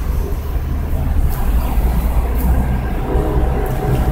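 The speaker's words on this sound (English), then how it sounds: "Let me see if the train is gone up yonder." A steady low rumble of a train rolling by, continuous and fairly loud, with a dense mechanical drone filling the whole stretch and no voices.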